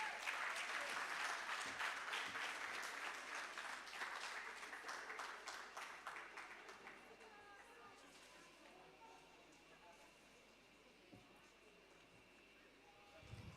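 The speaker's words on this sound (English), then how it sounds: "A round of applause for our graduates." An audience at a junior school graduation ceremony applauds the graduates, with loud, dense clapping at first that thins and fades away to scattered claps by the end.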